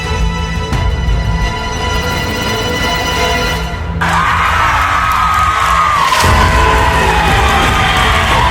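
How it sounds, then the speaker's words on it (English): A college football crowd at College GameDay on campus cheering and whooping loudly, a dense roar that swells halfway through, with shouts rising above it. "look at the crowd"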